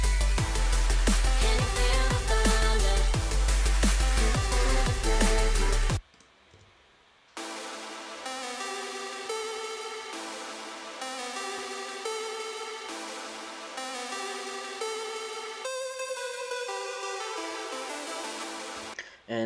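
A drum and bass track plays a dense passage with drums, then drops out briefly before a descending synth arpeggio loop and a lush lead synth rise, steady and loud.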